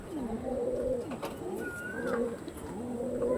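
Blue-tailed Chennai Blood pigeons coo softly in repeated low, throaty calls, with a faint chirp from another bird in the background.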